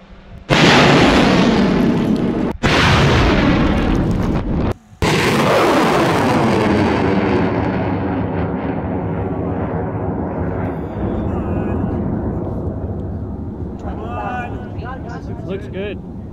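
A rocket launch sets off with a sudden, very loud roaring blast that rumbles and crackles with a couple of abrupt breaks, then slowly fades into a long distant rumble as the vehicle climbs away, with faint voices near the end.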